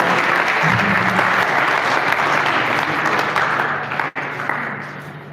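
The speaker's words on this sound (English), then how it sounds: "let's give him a round of applause." Attendees at a farmers' training and stakeholder workshop give a round of applause, a full, sustained burst of clapping from a crowd that carries on steadily and eases off near the end, with a brief faint voice early on.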